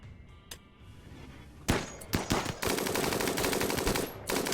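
Rapid automatic gunfire from a RimWorld colony firing line, starting with a few sharp isolated shots before breaking into a sustained, loud, dense burst of rattling fire that runs to the end.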